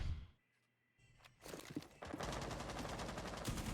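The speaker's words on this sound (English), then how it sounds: "He does hear the gunfire." Gunfire in the Rainbow Six video game during a college esports match: after a quiet stretch with a few thuds, rapid automatic shots burst in and continue as a dense, loud volley.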